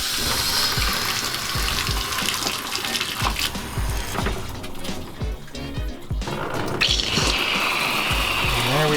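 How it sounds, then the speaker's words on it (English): Water gushes from a shower head in a Forest River Vibe travel trailer, a steady close hiss of strong spray with splashing that shifts in tone partway through, running continuously. "That is some pretty good water pressure."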